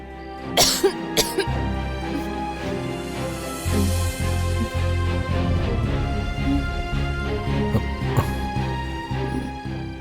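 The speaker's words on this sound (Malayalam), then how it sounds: "നല്ല ചുമയുണ്ട്" Several sharp coughs from a person with a fever break out, a couple in quick succession near the start and another later, over a steady background hum.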